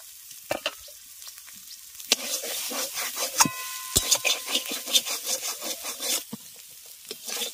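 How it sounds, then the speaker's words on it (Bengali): Chopped banana flower with poppy seed paste being stir-fried dry in a pan, a spatula scraping and stirring in quick, rhythmic strokes with a soft sizzle, close by and without talk. "এবার এটাকে খুব ভালো করে এইভাবে নেড়ে ভাজা ভাজা করে নেব।"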